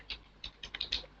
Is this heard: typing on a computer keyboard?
yes